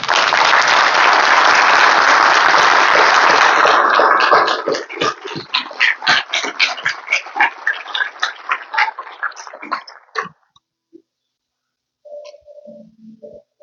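Applause from a crowd at a funeral tribute in Criciúma, loud and dense for about four seconds, then thinning to scattered claps that fade out, followed by brief faint sounds near the end.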